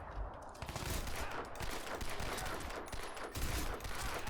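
Dense, continuous gunfire in the video game Crysis 2, running with graphics mods. A steady, overlapping barrage of shots fills the whole stretch at moderate level with no voices.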